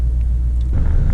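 The engine of a 1975 Chevy C10 truck idles just after starting, a loud, steady, close low rumble that grows slightly rougher toward the end, with no voices.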